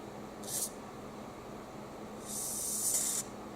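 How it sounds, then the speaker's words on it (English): Spray can hissing onto a massage roller stick in two bursts, a short puff and then a longer spray of about a second, close up over quiet room tone. "Okay, I've sprayed a little."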